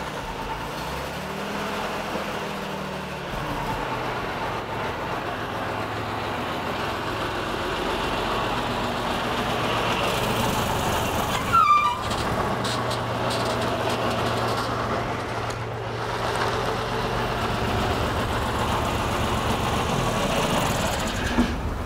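An immaculate M2 Scout car reversing at a military collectors' gathering, its engine a low steady rumble near at hand, with a brief clatter partway through before the idle-like drone carries on.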